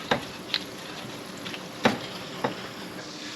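Unsalted butter melts with a couple of garlic cloves in a pan, a steady soft sizzle close by with a few sharper pops and stir scrapes, no voices.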